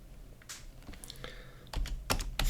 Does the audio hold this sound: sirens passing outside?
no